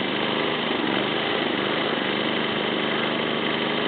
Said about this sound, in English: So I just have to wait for the pump to do its job